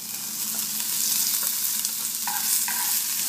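Shrimp frying in a hot pan with garlic, scallion and ginger give a loud, continuous close sizzle, with light scraping of stirring on top.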